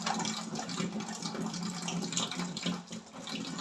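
Water pours from a kitchen tap into a gallon container, a loud steady gushing stream that continues without pause, with no one speaking.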